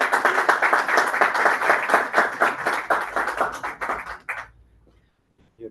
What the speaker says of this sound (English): Just clap for him as he comes.